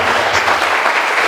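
A church congregation claps and cheers together, a steady wash of applause throughout the brief moment.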